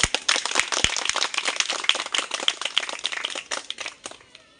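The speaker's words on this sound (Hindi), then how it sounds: "एक बार ताली बजाइए इनकी।" A small group of people claps for a teacher at a convent school, producing a quiet, dense flurry of quick hand claps that continues evenly and thins out just before the end.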